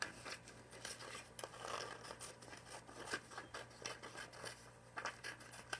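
Scissors snipping paper circles for snowflakes, a steady run of close, crisp cuts and rustles over a low constant hum.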